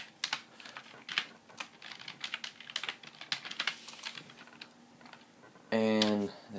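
Rapid, irregular keystrokes clatter on a computer keyboard while code for a Doom weapons mod is typed, close and steady throughout, ending with a brief buzzing tone.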